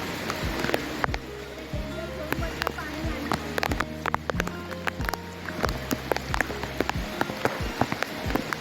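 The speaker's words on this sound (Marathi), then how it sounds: "पाऊस थोडा कमी आहे" Light rain patters steadily with scattered drops tapping nearby, under a low continuous hum and occasional muffled voices, in a scenic natural spot at Nate, Rajapur, Ratnagiri.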